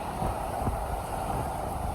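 A strong, cold wind blows through the Lembah Anai valley, making a constant low buffeting rumble with gusty swells against the microphone and no clear talk.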